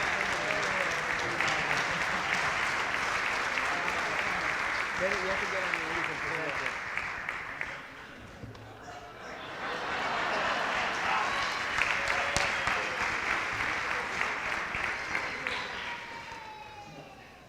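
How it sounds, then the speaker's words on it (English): An audience at a high school band holiday concert applauds and cheers loudly, a dense sustained roar that dips briefly midway, then swells again with voices shouting over it before tapering off. "Give it up for Mr. Unks."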